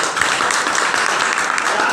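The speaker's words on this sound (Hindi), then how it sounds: "ताली होना चाहिए।" Audience at a business seminar claps steadily and loudly for the whole moment, a dense even wash of applause.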